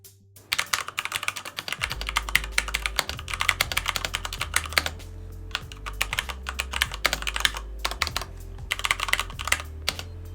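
Rapid clicky typing on an ASUS ROG Falchion mechanical keyboard, close and crisp, with dense bursts of keystrokes and brief pauses, heard alone.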